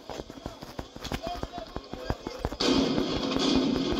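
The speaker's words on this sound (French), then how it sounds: "C'est des feux d'artifice" Sharp pops and crackles of fireworks burst repeatedly, followed by a dense, continuous crackling roar, with voices talking over it.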